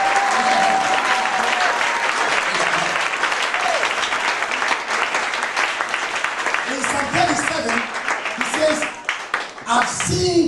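A church congregation claps loudly through a sermon, the dense applause running continuously while a preacher's voice sounds over it, thinning out near the end.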